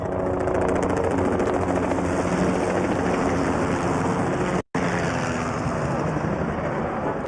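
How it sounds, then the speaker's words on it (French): Two Bell 505 helicopters flying in formation over an independence day military parade, a loud continuous rotor and turbine roar with a rapid chopping pulse, close and unbroken apart from a brief dropout. "on a la formation Malo avec 2 hélicoptères Bell 505"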